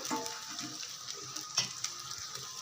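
Leftover rice tossed and stir-fried in a hot pan for karam rice (spicy chili rice), a steady close sizzle with light scraping and stirring clicks throughout.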